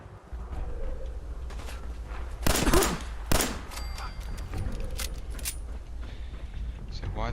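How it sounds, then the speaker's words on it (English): Bursts of enemy gunfire in Fallout 4, a cluster of loud rapid shots in the middle with scattered fainter pops before and after, over a steady game background with voices murmuring in places. "Where on earth is this guy shooting?"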